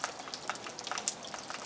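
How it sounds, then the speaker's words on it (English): Tiny micro hail falls on a snowy day in Mendocino County, a faint, soft crackle of scattered light ticks and fizzing patter. "we are having little micro hail"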